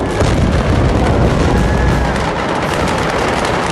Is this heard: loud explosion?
yes